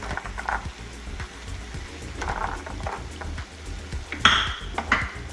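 Pomegranate chicken sauce thickens in a pan, a soft steady sizzle with scraping and clinks of a spoon stirring against the pan, growing brighter near the end.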